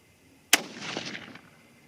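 A single loud .22-250 Remington rifle shot cracks sharply, then a rolling echo decays over about a second outdoors, with no talking.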